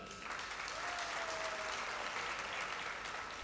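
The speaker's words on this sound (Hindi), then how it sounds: "वहीद मुराद के लिए तालियां।" An audience at an Urdu conference in Karachi gives steady, full applause, a dense wash of clapping that holds at an even level throughout.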